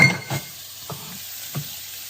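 Kielbasa sausage browns in a pan on the stove, giving a soft, close sizzle with a few light clinks from utensils; no one speaks.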